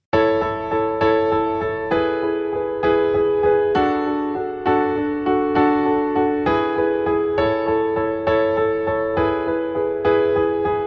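Piano chords in a major progression, each struck repeatedly in an even rhythm and ringing clearly with no other sounds.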